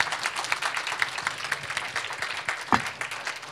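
Applause from the audience at the close of an Oxford-style debate at a philanthropy summit in Poland, a steady patter of many hands lasting throughout at moderate level.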